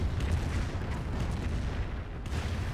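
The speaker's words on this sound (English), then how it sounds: "Does sprint into the Calliope barrage" Calliope rocket barrage in the Company of Heroes real-time strategy game, a dense continuous rumble of overlapping rocket blasts and explosions, loud and steady with no talk.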